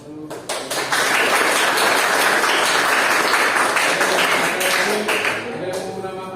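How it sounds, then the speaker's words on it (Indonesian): A classroom of students breaks into applause, a dense, loud, sustained clapping that swells quickly, holds for several seconds and then tapers off. "Jadi aplaus dulu."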